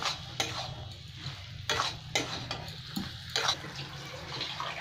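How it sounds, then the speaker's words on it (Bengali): Green peas frying in a pan for a dal, a soft bubbling sizzle under a low hum, punctuated by a few sharp scraping stirs of a spoon, close and fairly quiet. "এবার এটাকে 2-3 মিনিট আরও আমি ভেজে নেবো"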